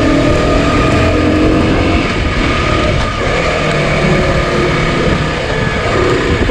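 An Aprilia 125 RX motorcycle engine on a test ride, a continuous loud, steady engine drone with road rumble, close and unbroken for the whole stretch, no talking.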